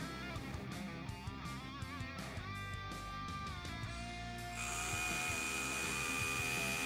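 A Bosch SDS-Plus rotary hammer drills with no vacuum extraction running, giving a steady, loud mechanical whine that shifts to a higher, brighter pitch near the end.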